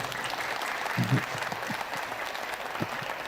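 A crowd at an evening Maulid Nabi religious gathering claps steadily, a dense, even spread of applause filling the room, with a few lower thumps standing out.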